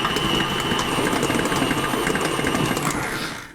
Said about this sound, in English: judging by how the table is shaking, you can see that the machine is working really hard